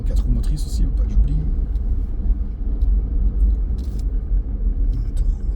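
A car driving in four-wheel drive along Wylie Head Beach at Esperance, Western Australia, giving a steady low engine rumble and road noise throughout, with talk over it.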